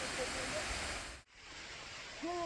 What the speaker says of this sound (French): On voit la cascade, là, la toute petite cascade